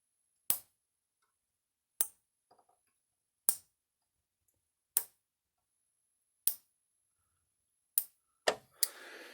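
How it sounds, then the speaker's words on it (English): Sharp, loud electric snaps from a Gallagher solar electric fence charger crack at a steady interval of about one and a half seconds, with silence between, ending in a quick double snap and brief buzz. "Can't see the spark, but I think you could hear it."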